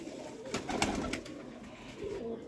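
Red-eyed colored breeder pigeons in Lahore coo softly and repeatedly in low, throaty murmurs, close by, with scattered rustling and fluttering and no speech.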